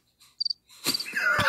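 Comedic cricket chirps played as a sound effect after a joke falls flat, a few quick high chirps alone in near silence, followed by a brief burst of other noise and a voice.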